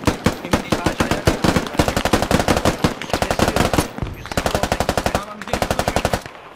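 Machine gun fire in the video game Squad: loud, close, rapid automatic bursts of shots repeating in quick rhythmic strings with short pauses between them.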